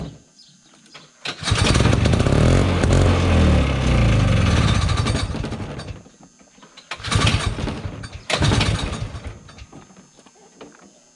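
An old Ski Whiz snowmobile with a single-cylinder engine, left sitting over twenty years and short on fuel, sputters loudly when cranked, catching for about five seconds before dying, then two shorter bursts that fail to keep running.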